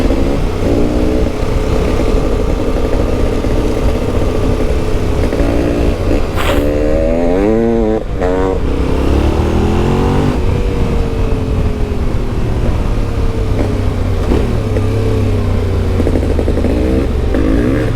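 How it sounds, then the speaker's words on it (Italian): A Yamaha Tenere 700 adventure motorcycle revs and accelerates on a wet dirt trail through woods, engine roaring steadily close by with rising and falling throttle bursts and some clatter. "Bisogna sgommare qua, è quello il bello della moto, che si sgomma sul bagnato"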